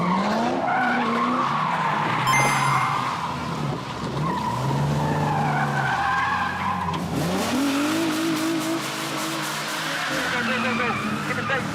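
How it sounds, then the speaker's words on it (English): Car drifting around a post during drift show practice, tires squealing and skidding in long sustained screeches over a running engine, with people talking and calling out throughout. "drive the length and do a sort of drift around the post"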